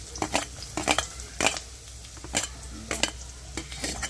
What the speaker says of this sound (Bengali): তেল গরম হয়ে গেছে এরপরে একে একে দিয়ে দেবো পেঁয়াজ কুচনো পেঁয়াজ